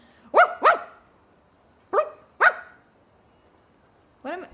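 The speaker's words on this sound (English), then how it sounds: "I'm barking." In a video game, a dog in snowy Snezhnaya barks in pairs of sharp, close barks, two pairs and then a single bark, with silence between them.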